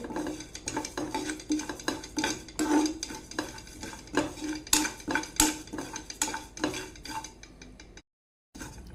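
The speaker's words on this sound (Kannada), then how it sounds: "ಆಫ್ ಮಾಡಿ ಇವಾಗ ಫ್ರೈ ಮಾಡಿಕೊಳ್ತಾ ಇದ್ದೇನೆ" Stirring and frying in a hot pan with the gas switched off, a utensil scraping and clinking against the metal at a steady, irregular rhythm close by, with a faint sizzle beneath and no talking.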